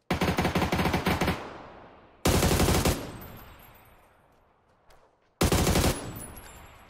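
Gunfire in PUBG fired from high ground: three loud bursts of rapid automatic shots, each cutting off and ringing out into a long fading echo, with a brief faint pop between the second and third bursts.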